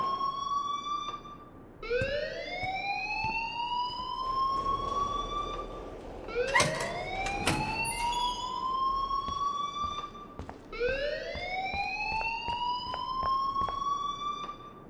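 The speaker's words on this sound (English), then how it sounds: "please turn off that alarm since that's your job." A wailing siren-style alarm rings in the video game Life is Strange, repeating rising whoops every few seconds, loud and close, with clicks and clatter in between.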